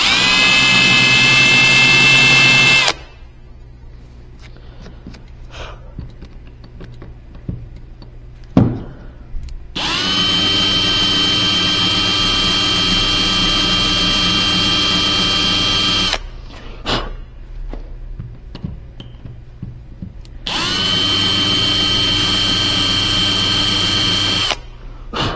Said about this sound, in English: there's a little mark there, so I can use my drill to make the hole.